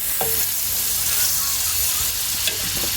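Butter sizzling in an oiled pan while making homemade vegetarian burgers, a steady close hiss with a couple of light clinks from a utensil.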